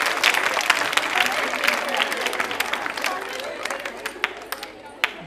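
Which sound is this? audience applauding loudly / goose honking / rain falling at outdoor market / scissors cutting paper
audience applauding loudly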